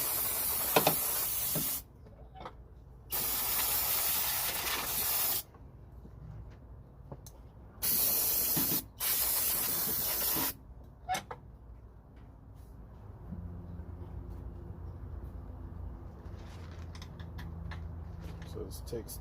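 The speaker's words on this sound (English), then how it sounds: "Some brake cleaner in the area." Brake cleaner hisses from an aerosol can onto car parts during a 2005 Toyota Prius engine swap, in several bursts of loud spraying separated by quiet gaps, followed by faint mechanical clinks and low hum.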